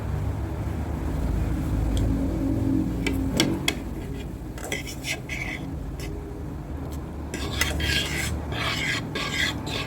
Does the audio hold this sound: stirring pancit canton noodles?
yes